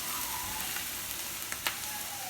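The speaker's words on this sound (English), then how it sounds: "So right here we have some boiling water" Salted water boiling in a cooking pot, a continuous close hiss and bubbling roar with a few faint clinks near the end, no talking.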